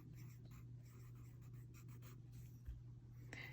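Colored pencil scratching steadily across paper while a color wheel is filled in, a soft continuous scribbling texture over a low background hum, with a faint breath near the end and no talking.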